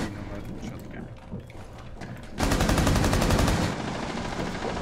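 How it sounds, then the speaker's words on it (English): The Nomad's shotgun firing in Rainbow Six Siege, a sudden loud run of rapid, evenly spaced shots starting midway, with a player's voice talking over it. "It's the Nomad shotgun."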